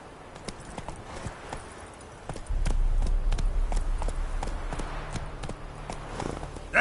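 Hooves of the horse Roach clip-clopping in a video game, a steady galloping patter that starts lighter and then grows louder and more driving partway through, close up over a low rumble, with no talk.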